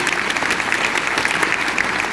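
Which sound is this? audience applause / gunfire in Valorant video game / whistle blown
audience applause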